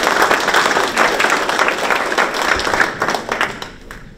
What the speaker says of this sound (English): let's give Jason a big round of applause